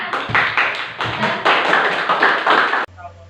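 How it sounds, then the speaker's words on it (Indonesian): A school class claps hands together in loud, rhythmic bursts of patterned clapping, several quick grouped beats repeating before stopping abruptly into a quiet hum. "Kita tepuk tangan untuk kita semua."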